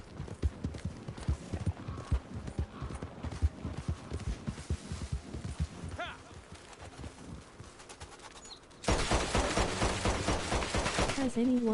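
Rapid rhythmic hoofbeats of a galloping horse in Red Dead Online, fairly faint, give way to a sudden louder burst of noise near the end.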